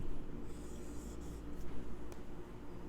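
A marker scratches letters onto a classroom board in short strokes during a first-grade reading lesson, faint and close over a soft room hiss.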